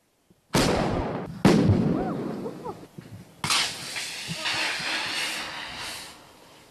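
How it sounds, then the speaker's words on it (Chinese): Fire extinguisher balls set off during a safety test at a Hangzhou fire rescue station burst with three sharp, loud bangs, each followed by a rushing, crackling release of powder that slowly trails off. "它是达到了一定的温度之后会自动爆炸，释放砂石或者干粉"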